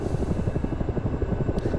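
Steady rotor thumping from a Ka-50 Black Shark helicopter in a flight simulator game, a continuous rhythmic chop with a low engine drone underneath, heard alone and fairly close.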